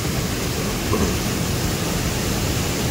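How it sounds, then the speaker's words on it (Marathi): Dense, steady downpour of monsoon rain in the Konkan countryside, a continuous hissing wash of water that stays loud and even throughout with no talking. "सतत रात्रभर चालू हा पाऊस."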